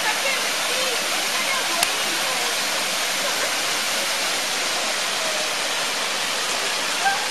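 A waterfall at Nepi pours in a loud, steady hiss of rushing water, continuous and close, with no clear voices standing out above it.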